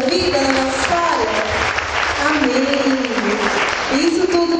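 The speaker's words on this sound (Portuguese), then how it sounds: "Vamos aplaudir o Senhor na nossa vida, na nossa história." A church congregation applauding during evening prayer, steady, dense clapping throughout with voices and singing audible over it.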